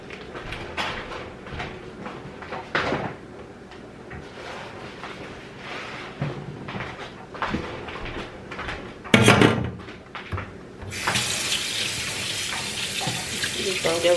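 Lamb chops, some cut thin, rinsed under a running kitchen tap, water noise steady throughout with a louder, brighter gush near the end and brief clatter midway.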